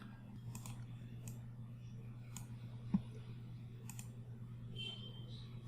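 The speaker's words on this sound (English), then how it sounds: "Select entire line and click on this execute button." A single sharp mouse click on an execute button while creating a MySQL user, heard once and faintly against a steady low electrical hum with no other activity.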